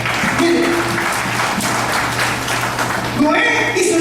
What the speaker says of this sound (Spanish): denle un aplauso si no se está entendiendo